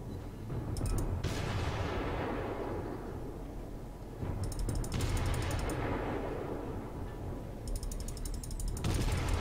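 The guns of the German cruiser Dresden fire in World of Warships, three loud booming salvos several seconds apart, each followed by a long mechanical ratcheting rumble of reloading turrets and decaying echoes.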